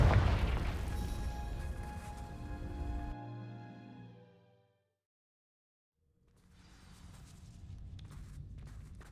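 Confringo fire spell in Hogwarts Legacy, a loud booming blast that rings out and fades into silence, then a low crackling rumble of dry vines igniting and burning.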